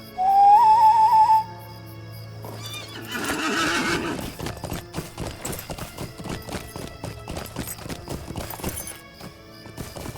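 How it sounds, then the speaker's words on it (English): In the Lord of the Rings Online video game, a summoned horse whinnies, then sets off with a steady, fast clip-clop of hooves, a whistle-like tone sounding at the start. "Let's go ahead and load up a horse."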